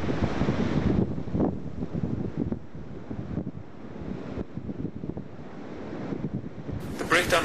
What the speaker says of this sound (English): Just listening to the waves, very relaxing